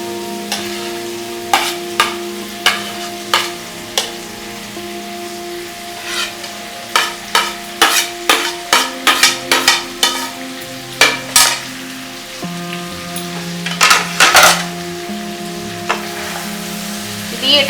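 Chicken fried rice with chicken, egg and shrimp is stirred in a sizzling pan, the spoon scraping in a run of sharp, rhythmic strokes over a steady frying hiss, loud and close, with no one talking.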